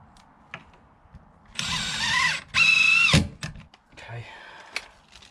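A power drill drives screws while a workshop shed is fitted with power and lighting, two loud whirring bursts in the middle, the second stronger, followed by a shorter lighter run, with clicks and handling noises around them and brief speech.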